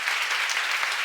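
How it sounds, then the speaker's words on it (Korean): A church congregation at a seminar claps together in a brief, dense burst of applause, loud and sustained without pause or speech. "박수 세게 쳐요."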